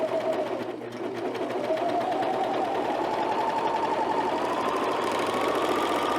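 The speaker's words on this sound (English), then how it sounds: "All right, so we're gonna sew this" A cover stitch sewing machine runs steadily, stitching elastic onto women's underwear with a continuous mechanical whir and rapid needle chatter that holds at an even, close level throughout.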